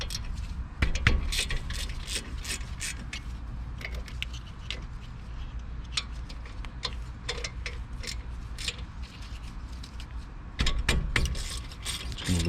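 Ratchet clicking rapidly and steadily on a T45 bit while loosening brake caliper bolts on a Ford Escape during a front brake pad job, close up, with a few louder knocks and clanks along the way.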